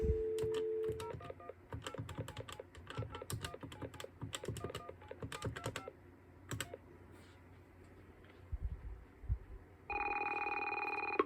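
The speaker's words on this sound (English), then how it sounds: "let's go ahead and dial the standardized PSAP number that we all know and love" Emergency number keyed on a Dialogic telephone switch: a string of sharp key clicks and short tones, then a steady electronic tone begins near the end, quiet and close.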